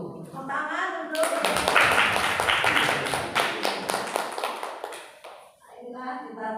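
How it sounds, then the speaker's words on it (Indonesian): A burst of clapping from a group, lasting several seconds, with voices talking before and after it. "Tepuk tangan untuk."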